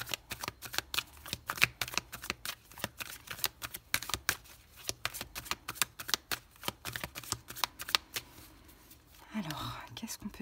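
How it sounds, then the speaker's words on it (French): Tarot cards shuffled by hand in a rapid run of crisp riffling slaps, close and fairly quiet, with a brief soft rustle near the end. "On prend des petites cartes de la triade."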